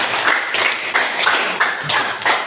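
A classroom group claps for classmates in a brief round of applause, a series of light, fairly quick claps recorded close and alone.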